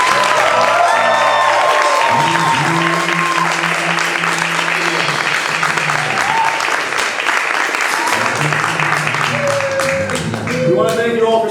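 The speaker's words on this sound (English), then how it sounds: "Please join me in giving one last round of applause to these outstanding graduates." Audience applause and cheering for graduates at a Pitt Tonight season finale, dense sustained clapping filling the whole stretch with a loud crowd roar, while talk and music-like tones run underneath.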